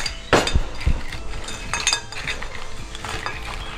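Crab pieces for Goan crab xeq xeq being mixed with salt in a bowl, giving a run of close clinks and knocks against the bowl followed by softer, continuous shuffling and rattling.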